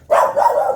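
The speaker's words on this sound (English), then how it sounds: "My dog saw the neighbor and had to announce it." A pet dog gives one loud, close bark aimed at a neighbor, a sharp onset that trails into a brief drawn-out yelp.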